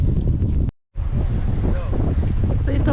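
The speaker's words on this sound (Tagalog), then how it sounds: "ang lakas talaga ng hangin" Strong wind during a snowstorm in Vaasa buffets the microphone with a steady roar, cut by a brief dropout, while a voice talks faintly underneath.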